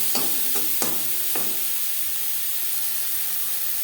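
Turmeric, salt, onion, tomato and garlic stirred together in a hot pan: a steady close sizzling hiss, with a few sharp scraping clicks of the spatula early on and then continuous frying.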